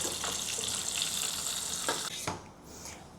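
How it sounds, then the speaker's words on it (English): Prawns deep fry in hot oil for crispy butter prawns, giving a dense, continuous sizzle with a few clinks and a brief lull near the end. "I've finished frying all the prawns for the first round"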